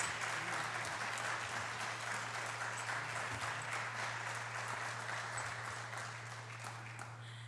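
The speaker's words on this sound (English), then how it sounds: "let's give him a round of applause" An audience at a college evening event gives a guest a steady round of applause, a dense, even patter that holds throughout and eases slightly near the end.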